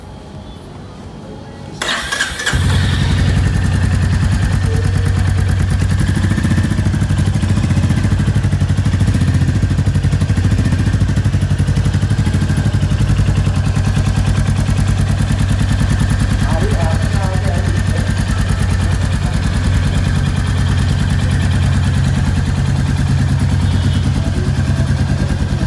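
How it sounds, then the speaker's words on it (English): A Royal Enfield Meteor 350 motorcycle starts up after a brief pause, and its single-cylinder engine and exhaust settle into a steady, loud, deep rumbling idle that continues for over twenty seconds, close to the listener. "start the bike and show us the sound, the exhaust notes, and how this Meteor 350 rumbles"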